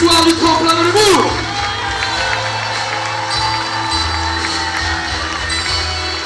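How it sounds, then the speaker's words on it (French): A large crowd cheering and applauding at a comedy contest awards ceremony in Saint-Gaudens, with whoops and shouts rising over steady clapping; loud and close, fading slightly into sustained applause. "Applaudissements pour nos amis ce soir du tremplin de l'humour."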